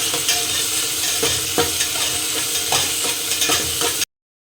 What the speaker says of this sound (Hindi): इसको पहले हम अच्छी तरीके से भून लेते हैं